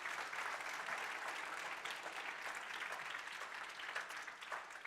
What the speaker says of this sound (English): Can we give another round of applause for Dr. Bauerschmidt?